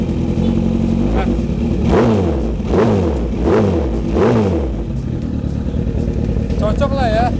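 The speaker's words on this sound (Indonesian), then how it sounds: "Coba agak digas dikit." A vehicle engine revs in neutral while standing still, with four loud, close rising and falling revs over a steady idle, and people talk nearby.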